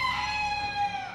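Broiler chickens inside a poultry shed, one bird crowing in a drawn-out call over a background of clucking, close and fairly loud.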